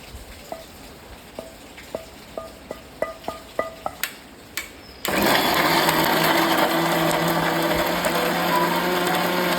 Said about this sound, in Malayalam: എന്നിട്ട് അത് ഒന്ന് ചൂടാറിയാൽ നമ്മൾ മിക്സിയുടെ ജാറിലേക്ക് ഇട്ട് ഒന്ന് അരച്ചു കൊടുക്കുക.